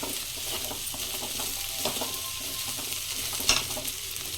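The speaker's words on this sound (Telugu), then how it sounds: "సేమియాని ఇప్పుడే ఫ్రై చేస్తాము వెజీస్తోనే ఇట్లా చేసుకోవచ్చు" Vermicelli frying together with vegetables in a pan for semiya upma, a steady close sizzle with soft stirring scrapes and one sharper clink near the end.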